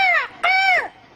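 A crow caws twice as a sound effect, two loud close harsh calls with a short gap between them, then silence.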